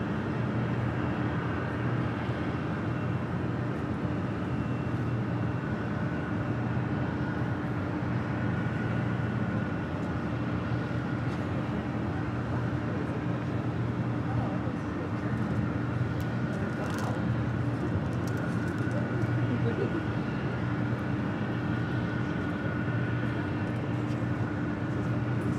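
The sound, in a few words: China Airlines cargo Boeing 777 freighter arriving at LAX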